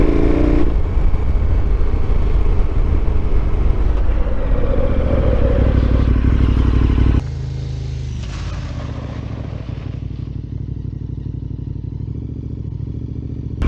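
Motorcycle ridden on a dirt road with ABS switched off, its engine droning steadily and loudly with gravel clatter, then dropping to a lower, quieter idle-like rumble partway through as the bike slows or slides.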